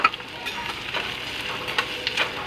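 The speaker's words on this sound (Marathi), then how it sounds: "कांदा आणि मिरची टाकली आपण इथे" Chopped onion and green chillies sizzling in a pan for besan pithla, a steady close crackle with soft stirring scrapes and no talk.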